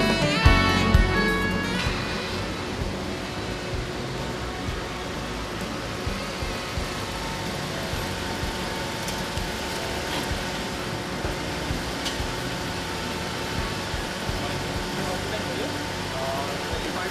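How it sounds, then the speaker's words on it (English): A car engine idles at a fuel station forecourt, a steady, even hum that runs throughout with a few small knocks and clicks layered over it. "You left your engine on."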